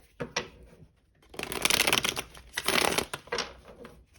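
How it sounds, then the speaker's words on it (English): A deck of tarot cards is shuffled in several quick riffling bursts with short pauses between them, close and crisp, with no talking. "we'll do one last shuffle"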